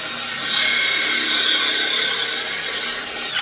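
A power tool bores halfway into plywood while a swift nest box is being built, a close, loud, steady high-pitched whine that runs for a few seconds and then cuts off abruptly.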